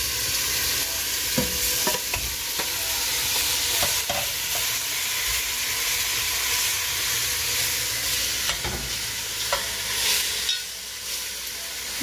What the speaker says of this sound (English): So I'm going to put the chicken in the pan. You hear it sizzling.